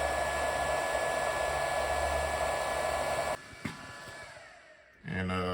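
A SeeSii handheld welder runs with a loud, steady fan-like whir that cuts off a little past halfway, followed by a brief quieter stretch before another tonal hum starts near the end.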